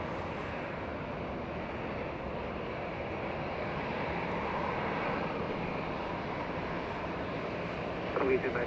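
Allegiant airliner taking off on runway 24 left at Los Angeles International Airport, a steady broadband engine roar that holds loud and even throughout, with wind noise on the microphone.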